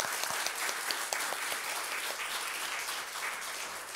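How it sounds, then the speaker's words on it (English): Round of applause for two keynote speakers at a library conference, a steady crowd clapping that fills the room evenly, moderately loud with no voices on top. "So let's give another round of applause for our two keynote speakers."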